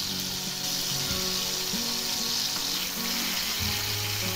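Dried mackerel (bangda) sautés in a pan, giving a steady, dense sizzle and crackle that stays loud and even throughout, with no voices over it.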